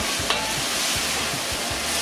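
Salted red onions being stirred in hot oil in a pot for an onion marmalade, a steady sizzle with repeated low scraping strokes of the spoon, close and continuous, with no talking.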